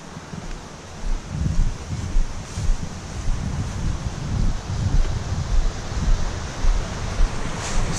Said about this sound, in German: Und sogar unter dieser Verlagerung fließt ein Fluss.